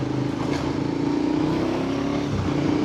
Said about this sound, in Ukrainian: Раз перегазовка, два перегазовка, друга передача.